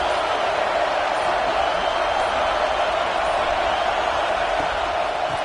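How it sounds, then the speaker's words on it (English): A stadium crowd roars in the College Football 26 video game during a game against North Carolina, a dense, constant wash of loud crowd noise with no breaks. "This crowd trying to make life miserable for this offense."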